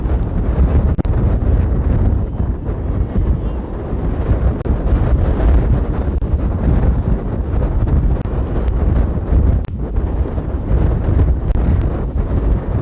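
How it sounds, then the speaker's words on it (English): Strong, gusty wind buffets the microphone at an outdoor college softball field, a loud, constant low rumble with rough bursts throughout and no talk heard. "In the crazy wind at Fun Valley"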